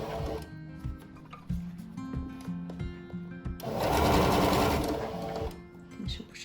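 A sewing machine stitches a seam close beside the spaghetti strap on a small pochette bag, running in short bursts of rapid mechanical chatter and then one longer, louder continuous run, with pauses and clicks between.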